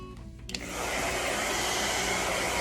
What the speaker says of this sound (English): then blow dry. Blow drying her scalp.